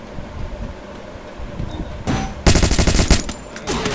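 Gunfire in the battle royale game Free Fire: rapid bursts of automatic shots, loudest in a dense volley near the end, over a steady hum of game ambience.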